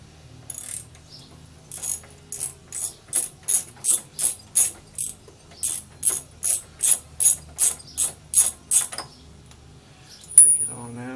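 A socket ratchet loosens the spark plug on a lawn mower, producing a series of close, crisp ratcheting bursts, about a dozen in an even rhythm, with a brief metallic clink near the end.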